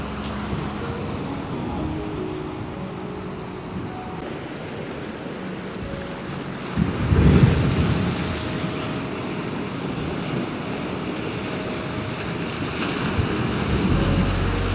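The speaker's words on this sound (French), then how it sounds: "Les vagues, ils arrivent." Ocean waves breaking on a shore, a continuous rushing surf with wind noise and one louder crash midway, heard close and without talk.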